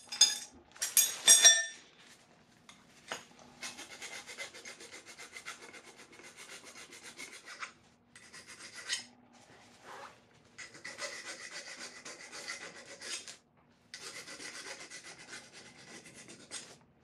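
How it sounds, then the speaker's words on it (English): The end of a metal rod is ground down to a conical shape during a 2008 Acura MDX cylinder head job. Several long, faint passes of steady abrasive rasping are separated by brief pauses, with a few louder knocks at the start. "I need to grind down the end of the rod to a conical shape."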